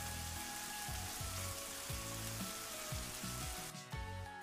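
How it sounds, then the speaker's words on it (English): Dense, steady heavy monsoon rain pours down in a continuous loud hiss, with strong wind implied and no voices. "Monsoon is a season of heavy rain and strong winds that happens in tropical areas."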